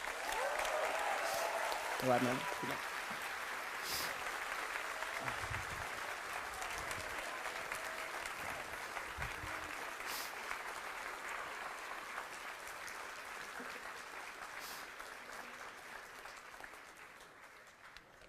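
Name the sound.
audience applause welcoming a professor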